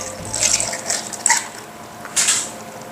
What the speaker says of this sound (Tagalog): I-buhos natin yung ating peanut butter milk.